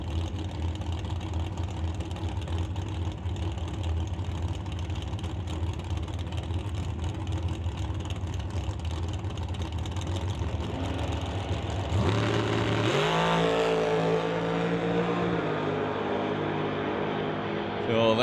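Dragster and Chevrolet S10 pickup racing side by side at a drag strip, a continuous loud engine roar that surges sharply into a hard, rising high-revving launch midway through, with no talk.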